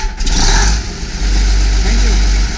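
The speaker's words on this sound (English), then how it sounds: "Start the engine, please." A Cummins NT855 diesel test engine cranks on an S70 starter and fires up, settling into a loud, steady rumbling idle with a brief dip early on, while voices talk faintly in the background.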